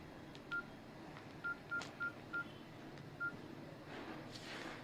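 A telephone number is keyed in with six short, evenly pitched touch-tone beeps in an irregular rhythm, quiet and close over faint background hiss, before a soft rising rustle.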